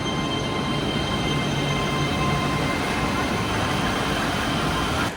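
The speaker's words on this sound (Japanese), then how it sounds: "古いタイプの車両が来ました。" An older-type metro train rumbles steadily into a station in Chongqing, China, a loud continuous roar of wheels on rails with a faint high squeal riding above it.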